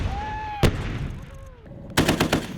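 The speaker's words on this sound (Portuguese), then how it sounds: "Estamos em um campo de batalha, tiro pra todo lado." Battlefield gunfire around an armored wheeled combat vehicle: sharp close gunshots crack, including a single loud report and then a rapid machine-gun burst, over a rumbling engine and whining background tone.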